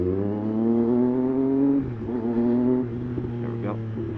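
A motorcycle engine accelerates at highway speed, a steady rising drone that drops off as it shifts, with a rider speaking over it.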